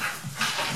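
A pet dog whimpers and fusses in the next room, a brief, continuous whiny vocal sound lasting under a second, fairly close and clear.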